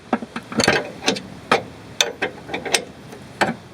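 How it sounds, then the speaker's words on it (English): A ratchet wrench tightens the bolt on a car's upper control arm at the rear side of the arm, giving a run of sharp, irregular metallic clicks at close range with no talking. "get your wrench in here, and tighten this up"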